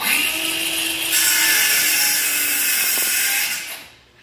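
A hand saw cuts through wood to make a handle for a DIY tire dressing wheel cover, giving a steady, loud rasping hiss for about three and a half seconds before it fades out, with no talking.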